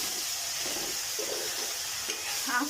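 Ginger and garlic frying in a pan while being stirred, a continuous close sizzle with a few soft scraping clatters near the end.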